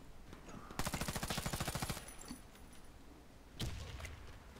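Gunfire in the Warface shooter game, a rapid automatic burst of about a dozen rounds followed moments later by a single sharp shot, fairly faint and with no talking.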